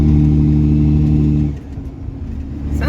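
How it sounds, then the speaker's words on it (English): Tow vehicle engine with a turbo noise while towing a tiny home, heard as a loud, droning cabin hum that drops off midway, then swells again as the engine picks back up. "Sounds like a turbo."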